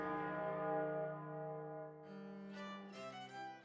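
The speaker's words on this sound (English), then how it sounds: "Each day at noon, the huge bell nicknamed Great Peter is rung from the church tower" The huge ten-ton bell called Great Peter rings from a church tower, with a long sustained resonant toll and a second strike near the midpoint, decaying slowly and heard alone.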